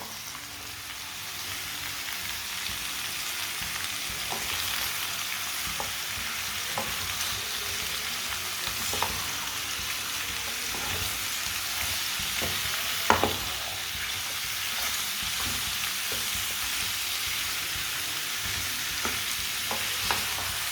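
Turnip curry fries in a pot over a medium flame, a steady close sizzle with occasional scraping stirs and soft knocks of a spoon against the pot, continuous and unbroken by talk.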